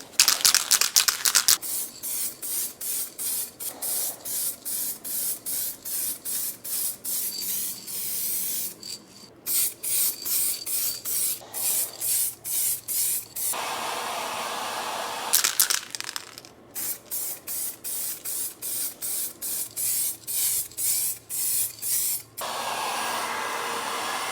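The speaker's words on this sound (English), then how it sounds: "And then for 2 layers of light matte clear coat." An aerosol can sprays light matte clear coat onto a BMW center console in long hissing bursts, each several seconds long with short pauses between them, close and steady.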